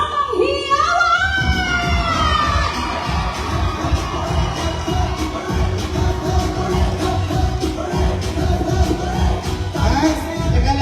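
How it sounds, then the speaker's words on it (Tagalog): A crowd at a gathering clapping, shouting and cheering together in a dense, continuous roar that holds steady throughout, with voices calling out over it. "palakpak na may kasamang hiyawan"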